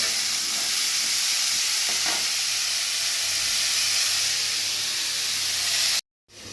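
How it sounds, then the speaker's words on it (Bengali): Sweet potato pieces frying in a pan with turmeric give a steady, loud hiss and sizzle, with faint stirring scrapes, until the sound cuts out abruptly near the end. "ভাজতে থাকবে"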